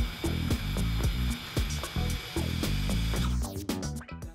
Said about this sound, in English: Before you replace the brake pads, you need to release the caliper by performing this function.